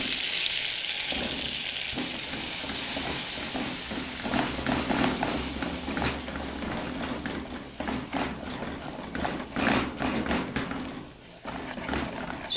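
Flour cooking in melted margarine in a pan for a white sauce, a steady close sizzle and bubbling hiss that runs the whole time with scattered crackles and a few scraping stirs.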